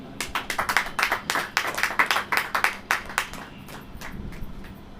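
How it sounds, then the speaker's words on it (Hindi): A church congregation claps during a sermon, a run of quick rhythmic hand claps that fades into a lighter, scattered patter toward the end. "ताली हो जाइए।"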